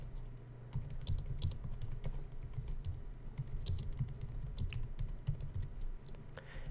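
Computer keyboard typing in quick, irregular bursts of soft key clicks up close, some keystrokes landing harder than others, with no talking during the run.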